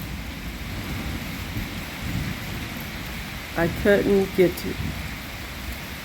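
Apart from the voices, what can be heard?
rain falling during a rain shower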